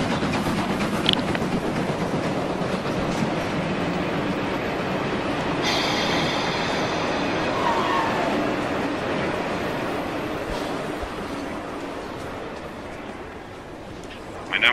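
N scale 1:160 model train passing through a station, a continuous rolling rumble with wheel noise and a brief higher squeal partway through, steady and close, with station announcements in German over it.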